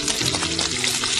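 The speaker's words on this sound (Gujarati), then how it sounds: "આ બધું સાંતળી લેવાનું અને આને બહુ ઓવરકુક નથી કરવાનું" Green, red and yellow bell peppers sautéing in olive oil, a loud, dense, continuous sizzle heard up close with no talking.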